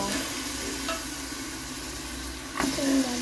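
Vegetables such as potato, pavta beans, peanuts and cauliflower tumble into a hot pan for pavta rice, producing a steady oily sizzle with stirring scrapes and a louder burst of frying near the end.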